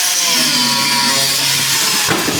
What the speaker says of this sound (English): so the angle grinder is the best option for that scenario